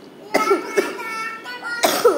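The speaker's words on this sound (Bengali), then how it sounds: "আমার কাশি হয়েছে" A child coughs several times in short, sharp bursts, close by, with brief pauses between coughs.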